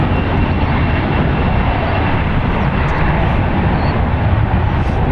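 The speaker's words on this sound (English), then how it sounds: "that Dreamliner that just departed" A Boeing 787 Dreamliner departs San Francisco International Airport and banks into a turn, its engines producing a loud, steady, broadband roar that holds unbroken throughout, with no voices.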